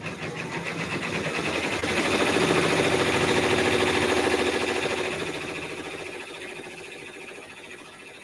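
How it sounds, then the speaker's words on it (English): A Brother Luminaire embroidery machine stitches a mug rug, giving a loud, continuous, rapid mechanical chatter close by that swells and then eases slightly, with no talk. "Just Stitching with the Brother Luminaire"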